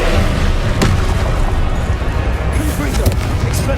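A fire spell goes off in Hogwarts Legacy as a loud, booming blast with crackling bursts, layered with dense game effects and a person talking over it.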